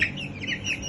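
Chickens, including a rooster, clucking in a brief burst of short, close, repeated calls on a poultry farm, with no talking over them.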